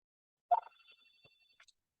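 A telephone gives a short electronic ring, one faint burst followed by a thin trailing tone in an otherwise quiet room.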